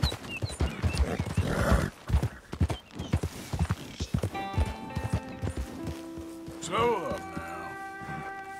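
Galloping hooves thud in quick clip-clop rhythm from a horse in the Red Dead Redemption 2 video game, followed by loud, wavering neighs and whinnies near the end.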